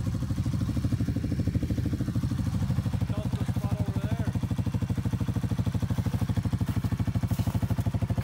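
A Yamaha Raptor 700 ATV engine running off-road alongside 4x4 trucks, a steady close rumbling pulse held at a constant throttle throughout, with no voices in the clip.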